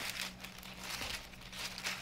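Kitchen scissors trim the corners off a sheet of parchment paper, giving a soft, faint, continuous crinkling and rustling with no voices.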